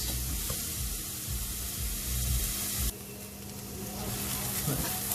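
Onion, garlic and shallots sweating in a pan, giving a continuous gentle sizzle and hiss that drops abruptly in brightness partway through, with light stirring knocks underneath.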